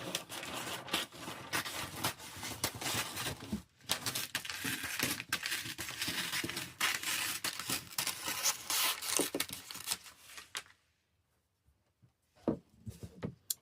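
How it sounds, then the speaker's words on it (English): Scissors slice across wrapping paper on a Christmas present in a long, dense run of crisp crunching and tearing snips, close and continuous for about ten seconds, then a pause and a few last short cuts. "using scissors, I'm going to cut across this top part"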